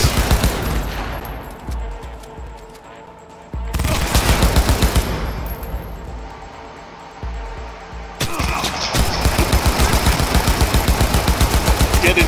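Automatic gunfire in the video game Cyberpunk 2077, loud rapid bursts of shots in three separate volleys, with short quieter gaps between them and the final burst the densest.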